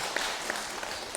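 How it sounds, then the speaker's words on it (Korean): Brief, faint applause from a congregation at a Catholic parish retreat talk in a church, a soft broadband patter of many hands clapping at a distance with no voices over it. "이건 박수 한번 치셔야 돼요."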